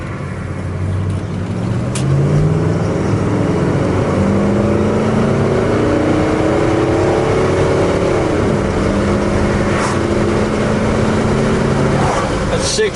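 A 1974 Oldsmobile Hurst pace car accelerates through its gears, the engine note rising in several steady sweeps, loud and constant with heavy road and wind rumble underneath.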